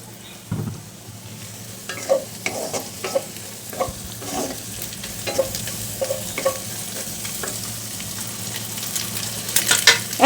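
Winter vegetables frying in a pan for breakfast noodles, a continuous close sizzle broken by regular scraping strokes of a spatula stirring, growing busier toward the end.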